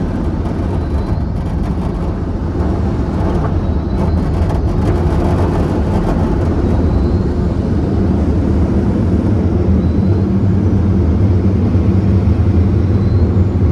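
Ryko R7B car wash dryer blowers with bad bearings run loud and continuous, a heavy rumbling roar with a faint whining edge, steady throughout and close by.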